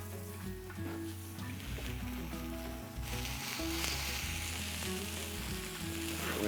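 Triple tail fish sizzles steadily on a slanted charcoal grill plate fired with B&B Charcoal, a loud continuous frying hiss with small pops and crackles and no talk.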